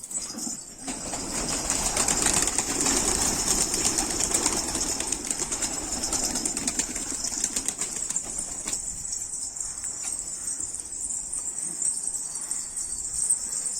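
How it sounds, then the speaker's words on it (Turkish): Pigeons released from a coop burst into flight, a loud flurry of flapping wings close by that settles into steady fluttering, with insect-like high chirring continuing above. "Gelin kuşlarımızı açalım"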